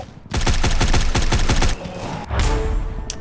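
Rapid automatic gunfire in the shooter game Guns of Boom, a loud rattling burst of evenly spaced shots lasting over a second, then a brief dip and another short burst with no talking.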